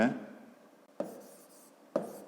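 Pen or pencil writing a measurement into a school notebook during a fifth-grade maths exercise: close, scratchy strokes that start with three sharp taps about a second apart, each fading into soft rubbing on paper.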